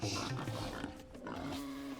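Pig grunts and squeals from the video game Age of Empires II, several short snorting calls close up, loud and clear over faint game background.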